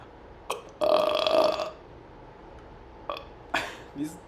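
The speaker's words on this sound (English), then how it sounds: "These aren't even like good burps" A series of close, short burps from a person doing a schoolwork project, one longer tonal belch followed by several brief weak ones, separated by quiet pauses.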